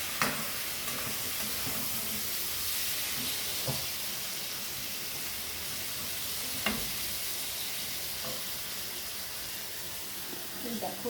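Potatoes frying in a pan give a soft, continuous sizzle with occasional stirring clicks and scrapes, fairly quiet and steady throughout.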